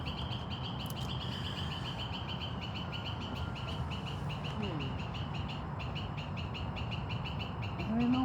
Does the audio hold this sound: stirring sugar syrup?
no